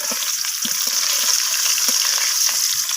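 Close, steady frying hiss of potatoes in oil, with occasional soft knocks and stirring scrapes underneath.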